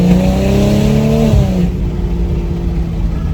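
A BMW M240i fitted with a catless downpipe, its engine loud and close as revs climb then fall away into a steady, throaty idle-level drone, with no talking.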